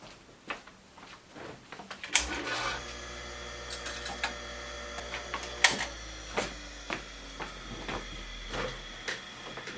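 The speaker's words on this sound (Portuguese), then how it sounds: "Eu vou fazer acabamento com overlock." An overlock sewing machine finishes a seam on a fleece sweatshirt-and-skirt set. After a couple of seconds of handling clicks, a steady mechanical whir with a low hum runs for about seven seconds, punctuated by periodic clunks, fairly close and without speech.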